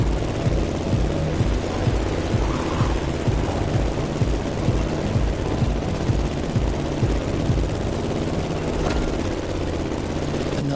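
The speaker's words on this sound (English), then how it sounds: "An extremely sharp turn is coming up. We've got to steer the plane all the way to the right." A plane's engine in The Crew Motorfest racing game roars loud and steady, a dense propeller drone that holds unbroken for about ten seconds with no voices over it.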